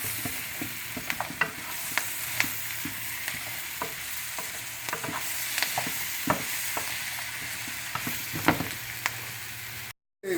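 Mushrooms sauteing in a pan for beef stroganoff give a steady close sizzle, with scattered clicks and scrapes of stirring spread through the sound, and a brief gap near the end.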